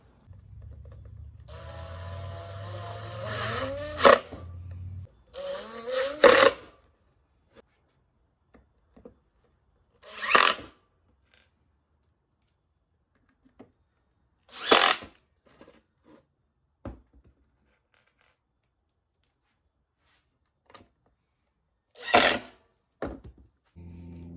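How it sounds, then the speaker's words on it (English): Short bursts of a power drill whirring as screws go in to fit rails on a skateboard, a few seconds each, separated by long quiet gaps; close and fairly loud. "Time for the drill."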